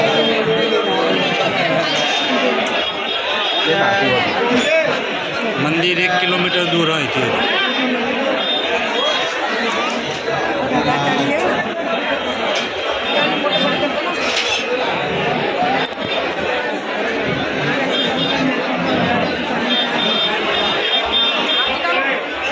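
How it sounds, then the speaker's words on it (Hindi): A large crowd of pilgrims packs the narrow lanes of Vrindavan near the Banke Bihari temple, a dense, loud, steady hubbub of chatter and movement close around, with someone talking over it. "जो वृंदावन की गलियों एटली भीड़ है, दर्शन करवा जवा माटे आटली बड़ी भीड़ है"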